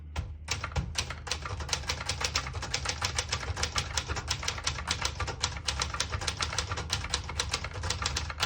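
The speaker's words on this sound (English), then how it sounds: "I'll type a sentence on the next line." Rapid, steady keystrokes on a 1966 Brother Wizard portable typewriter clatter close by, a brisk continuous run of sharp mechanical strikes with no voices.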